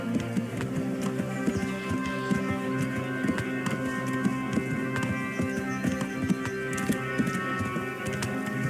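Horses gallop in the medieval game Kingdom Come: Deliverance, a steady, close run of hoofbeats over a sustained musical bed, with no voices.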